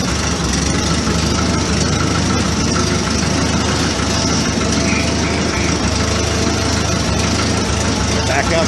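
An Allis Chalmers D17 tractor engine idles steadily up close with a slight valve rap, a continuous low rumble with light ticking, with voices talking over it.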